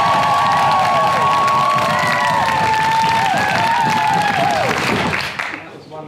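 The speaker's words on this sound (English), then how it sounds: "Really feel, you can whoop, cheer, stamp your feet." A festival audience at a live performance in Turku erupts in loud sustained applause, cheering and high whoops, a dense close crowd roar that holds steady before fading at the end.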